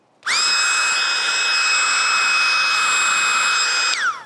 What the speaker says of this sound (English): It is bigger than the tiny pump, obviously, but I think this one's actually more powerful.